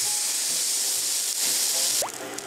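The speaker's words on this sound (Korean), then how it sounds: "고기를 넣어줘요. 와 소리 봐." Meat dropped into a hot frying pan for a fried rice dish sizzles with a loud, steady broadband hiss that shifts and softens slightly near the end, with a brief sharp clink.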